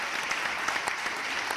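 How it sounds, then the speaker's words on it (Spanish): Steady applause from an audience during a Spanish-language interview session, many hands clapping in an even, moderately loud wash with a few distinct claps poking through. "Un aplauso, de verdad."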